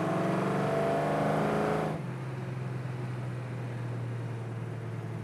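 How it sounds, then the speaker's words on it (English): A 1967 Chevrolet Camaro with a 396 V8 pulls hard under throttle, a loud rising engine roar for about two seconds that drops abruptly to a steady lower drone as it shifts or eases off. "Good response on the throttle, good acceleration out of the 396."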